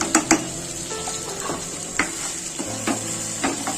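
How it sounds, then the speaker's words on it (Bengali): Spiced chickpeas with chili, coriander, cumin and turmeric masala frying in a pan, a steady close sizzle broken by scraping stirs and light clinks of a spoon, no talk. "দিয়ে মশলাটা ছোলার সঙ্গে মিক্স করে আমি 5 থেকে 7 মিনিট কষিয়ে নেব।"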